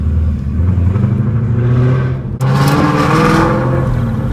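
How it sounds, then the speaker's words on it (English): A 2015-2017 Mustang GT engine fitted with a 2018 Mustang intake manifold roars loudly up close, holding a steady rumbling rev, dipping for a moment, then surging again with a brighter, harsher whine. "that car's loud"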